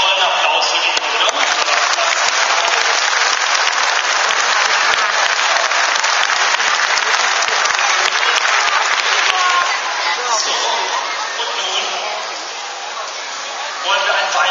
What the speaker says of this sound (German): Ich denke, die kleine junge Dame hat noch einen tollen Applaus verdient, oder?